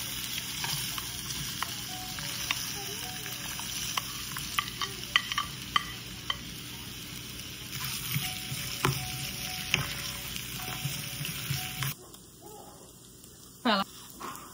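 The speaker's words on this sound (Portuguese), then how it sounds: "Então a gente vai colocar aqui na frigideira para ela começar a dar uma corada" Chopped potatoes fry in a frying pan with a continuous close sizzle, punctuated by sharp utensil clacks and stirring scrapes, quieter near the end.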